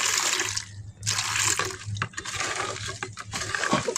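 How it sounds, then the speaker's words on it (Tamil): Water pours steadily into a homemade bathing soap mixture, a continuous close splashing stream with brief pauses, with no talk over it. "இதில் இப்போ தேவையான அளவுக்கு தண்ணி கலந்துக்கிறேன்"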